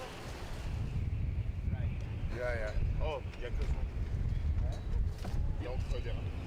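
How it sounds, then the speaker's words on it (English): Rough ocean waves off Guadalupe Island slap and churn around a shark-diving boat and cage, with steady loud wind and water wash throughout while a narrator speaks over it. "The waves threaten to throw the cage against the boat."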